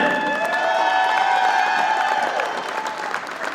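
A crowd applauds a Small College Basketball National Hall of Fame inductee from Winona State at center court. The clapping is steady and loud with some cheering, and it eases slightly toward the end.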